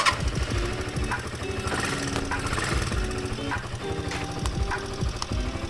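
Motorcycle engine started up and left idling during a custom build: a steady, close, chugging rumble with rapid regular knocking pulses, fairly loud throughout.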